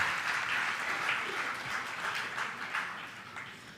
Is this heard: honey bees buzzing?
no